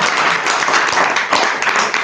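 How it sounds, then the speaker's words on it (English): Audience applause at a home event in Phoenix, Arizona, a dense, loud, continuous wash of clapping from a crowd, close and sustained. "please give him a round of applause"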